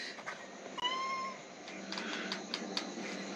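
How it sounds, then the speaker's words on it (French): A pregnant female kitten meows once clearly and close by, a short rising cry, followed by scattered light rustles and clicks in a quiet room. "Oui, le petit chat."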